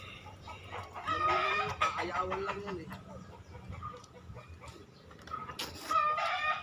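A rooster crows loudly nearby, then clucks and crows again, with a voice talking briefly in between.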